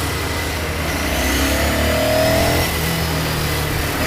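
An engine hums and rises steadily amid road noise, a Ducati Scrambler Sixty2 motorcycle riding through traffic with a continuous mid-pitched drone and wind rumble.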